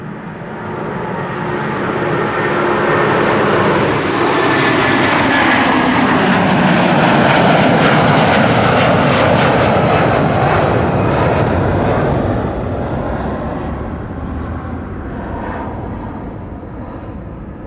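A Star Alliance jet airliner taking off from runway 24, the Kaagbaan, at Amsterdam Schiphol, a loud sustained engine roar that swells to a peak and then slowly fades as the aircraft climbs away.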